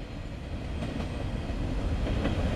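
Northbound Norfolk Southern coal train led by a heritage unit locomotive rolling past in Marion, Ohio; a steady low rumble of wheels and cars with faint rhythmic clacks, moderate level, no voices.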